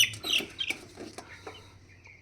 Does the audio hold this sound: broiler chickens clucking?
yes